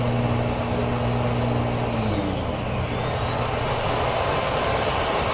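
A Miele Jazz S7280 vacuum cleaner runs at full power with its brush roll on, a steady loud airflow roar with a low hum that shifts pitch early and then holds even.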